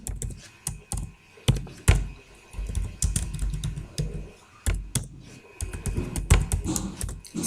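Code being typed on a computer keyboard, with irregular bursts of close, clacky keystrokes, occasional heavier key thumps and short pauses between runs.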